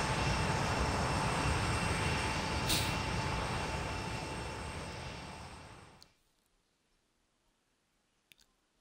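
An airplane engine in the Yesterday Origins video game gives a steady, loud broadband roar. It fades away after about six seconds into near silence, broken only by a couple of faint clicks.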